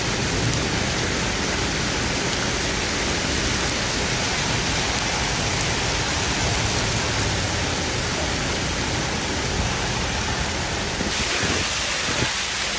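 Large hail pours down during a San Antonio thunderstorm with strong winds, a dense, continuous roar of impacts that stays loud and steady throughout, without voices.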